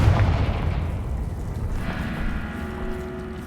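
A Confringo fire blast cast in the Hogwarts Legacy video game, a loud rumbling boom that rolls on and slowly fades, with no talk over it.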